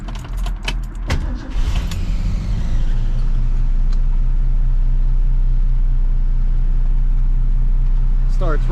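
A 1966 Ford Mustang with a 289 V8 and a 3-speed cranks with a few clicks and a whirring starter, then catches into a loud, steady, deep idle, close up, while a voice speaks briefly.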